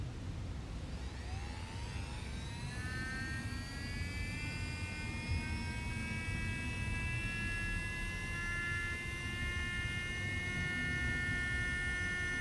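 A MelodySusie SP1 electric nail drill, rated to 30,000 RPM, spins up with a rising whine that settles into a steady, quiet, high-pitched hum held for several seconds with no other sounds.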